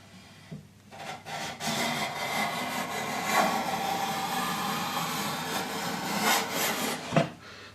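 A hand plane cuts a groove in wood for inlaid banding, giving a sustained rasping, shaving stroke that runs for several seconds, fairly close and alone with no talk.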